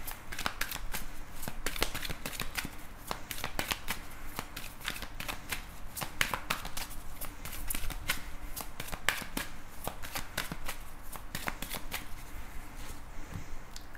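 Tarot cards are shuffled steadily and close up, a continuous run of dense papery riffles and flicks that stays even for the whole stretch, with no talk over it.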